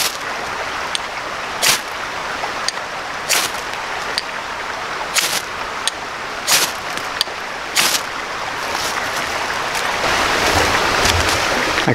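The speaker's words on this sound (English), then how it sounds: "I quickly washed that off in the creek." A knife rinsed off in a flowing creek outdoors: a steady rushing wash of moving water throughout, with sharp splashy bursts every second or so as the blade is swished, swelling louder near the end.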